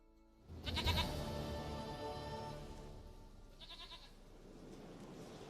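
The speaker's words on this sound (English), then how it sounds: "Goat of mine, dearest, sweetest goat." A goat in The Witcher 3: Wild Hunt gives a long, loud, wavering bleat close by, followed by a second shorter bleat, over steady game ambience.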